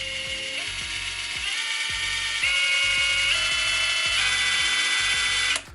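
An Excel 18V brushless impact driver, model 30367, runs continuously as its trigger is eased through different speeds, with a rapid ratcheting rattle and a whine that steps up in pitch, close and loud.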